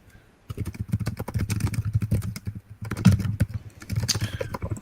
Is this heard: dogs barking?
no